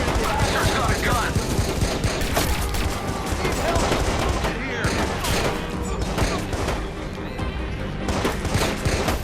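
Gunfire in the video game Watch Dogs: dense, rapid bursts of shots and continuous fusillade crackle, loud and sustained, with voices shouting over the shooting.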